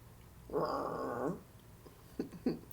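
Dog growling at close range, a low rumbling growl lasting under a second, followed by a couple of shorter grumbling sounds in a quiet room.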